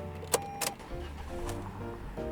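A Toyota RAV4 with an inline-four engine cranking and catching from inside the cabin, preceded by sharp clicks of the key and controls, then settling into a low steady idle hum.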